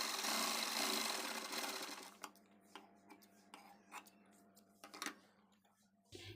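A sewing machine stitches a katori blouse, a quiet, fast whirring run for about two seconds, followed by sparse soft ticks and clicks from the machine.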